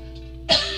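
A woman coughs once, sharply and close by, during a quiet yoga class.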